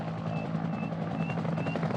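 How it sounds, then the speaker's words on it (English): Helicopter rotor and engine drone, steady and fairly loud throughout, with a low pulsing hum and a faint high whine, in an action film scene. "I will use Francois' helicopter."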